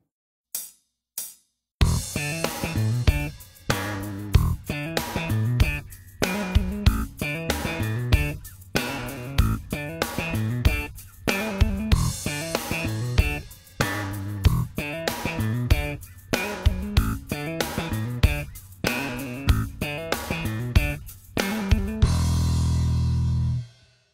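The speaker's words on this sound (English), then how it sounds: "I set up a basic slap and pop figure using a hammer-on, and then I followed that with a trill" Slap and pop electric bass exercise in E, with punchy thumb slaps and snapping pops in a steady funky rhythm, hammered-on notes and a fast trill near the end before a final ringing chord, close and loud with no talking.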